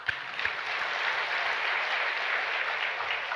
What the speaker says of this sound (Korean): 박수해줘요.